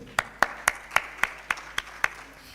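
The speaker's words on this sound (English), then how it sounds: "I think we deserve another round of applause." Eight sharp, evenly spaced claps ring out from a small audience at the close of an infrastructure conference session, moderate in level and slightly reverberant, like a brief scattered round of applause.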